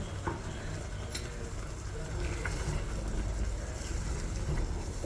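A spoon stirs a thick, simmering coconut curry with added water in a pan, scraping and sloshing steadily over a soft sizzle, close up.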